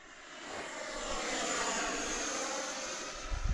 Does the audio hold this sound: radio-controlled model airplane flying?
yes